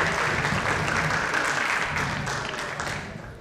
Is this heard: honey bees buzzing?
no